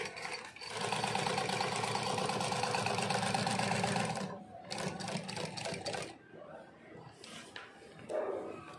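A GC-0303DCX heavy-duty top and bottom feed industrial sewing machine runs at high speed in a steady whirring burst for about four seconds, then gives a few shorter stitching bursts.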